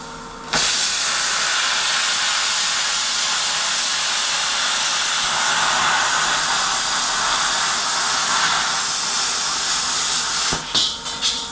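Plasma cutter slicing through a painted metal panel, a loud, steady roaring hiss that runs unbroken for about ten seconds and cuts off with a few sharp bursts at the end.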